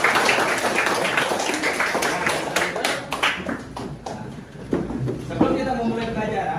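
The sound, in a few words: class of pupils clapping hands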